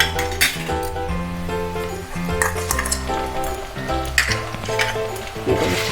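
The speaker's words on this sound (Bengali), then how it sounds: "এবার এর মধ্যে পেঁয়াজ বাটাটা দিয়ে দিচ্ছি।" Onion paste is added to hot oil with fried onions for a Bengali lote fish jhal, giving soft sizzling mixed with clinks and scrapes of a utensil against the pan, close and steady with no speech.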